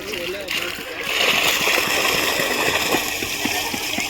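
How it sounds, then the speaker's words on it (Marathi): A waterfall splashes and rushes in a steady broad wash of noise, with people talking and calling out over it. "धबधबा is going on going on going on."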